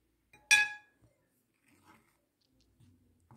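A spoon strikes a bowl with one bright metallic clink while sour cream is crushed and stirred for a Ukrainian cream recipe, followed by faint soft scraping and stirring noises, close and otherwise quiet.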